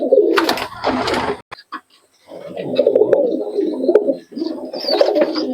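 Giribaz high-flyer pigeons, Kalojira type, coo close by in a low, steady murmur, with a couple of sharp rustling bursts near the start and a short lull in the middle.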